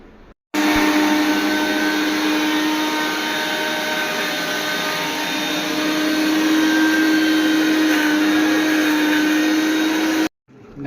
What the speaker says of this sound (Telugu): ఇదిగోండి అది నేను ఇప్పుడు గోరింటాకు రుబ్బుతాను